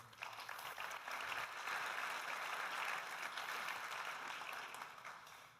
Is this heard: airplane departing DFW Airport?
no